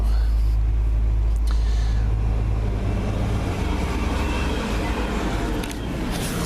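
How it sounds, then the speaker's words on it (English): A cement truck idles close by on a street in Southeast Huntsville in the evening, its loud, constant low diesel rumble filling the whole stretch. "even got a cement truck here at 6 p.m."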